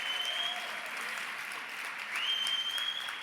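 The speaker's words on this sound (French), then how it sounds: "J'ai envie qu'on se fasse une main d'applaudissement collective." An audience at an awards gala claps together in a sustained round of collective applause, a dense crackle of many hands that swells slightly near the end, heard without talking.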